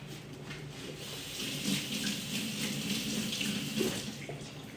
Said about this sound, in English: And then I'm gonna give this a quick rinse.